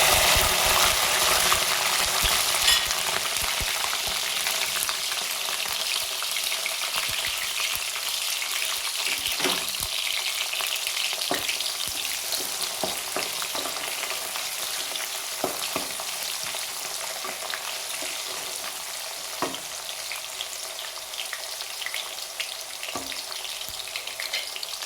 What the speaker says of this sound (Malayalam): ആ കടുക് പൊട്ടിക്കഴിഞ്ഞ് ഇനി നമുക്ക് അതിനകത്തോട്ട് വെളുത്തുള്ളി ഇട്ട് കൊടുക്കാം